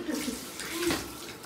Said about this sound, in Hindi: पहले गरम पानी आ रहा है